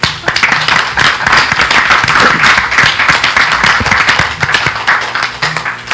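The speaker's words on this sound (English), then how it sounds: "give them a round of applause for being patient please" An audience at a public hearing gives a loud round of applause for temporary employees, dense clapping close by with sharp individual claps standing out, sustained throughout.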